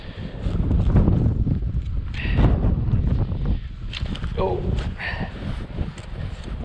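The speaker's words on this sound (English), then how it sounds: "45-mile-an-hour gusts today" Strong wind gusts of about 45 miles an hour buffet an open field, a loud rumbling roar that swells and eases, with a person speaking over it.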